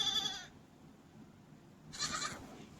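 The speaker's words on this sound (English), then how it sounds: "These are my goats." Goats bleat on a farm, giving two short, faint calls separated by a quiet pause.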